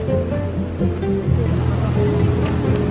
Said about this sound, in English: I'll just show you the actual waves and the surfers over there